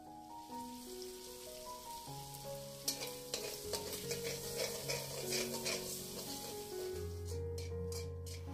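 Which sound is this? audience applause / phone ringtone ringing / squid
squid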